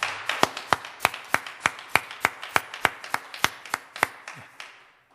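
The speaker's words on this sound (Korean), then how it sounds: "우리 따뜻한 박수로 환영을 하겠습니다" A church congregation claps in welcome during a Sunday morning service, with a steady run of about twenty crisp, evenly spaced claps that fade out at the end.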